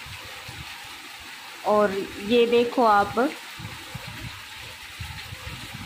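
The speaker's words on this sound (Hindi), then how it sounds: "मूसलाधार बारिश आ रही है यहाँ पे" Heavy torrential rain pours down in a steady, dense hiss, with a person speaking briefly over the downpour partway through.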